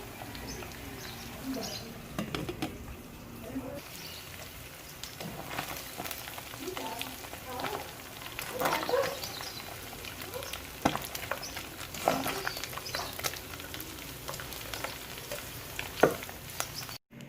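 Pork rinds crackle and sizzle steadily as they deep-fry in hot oil, with scattered pops and occasional stirring noises, close and moderately quiet.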